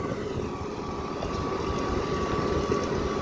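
A Massey Ferguson 3060 tractor hauling sheep manure on a rough road runs with a continuous, droning engine rumble, steady and fairly loud throughout with no talk.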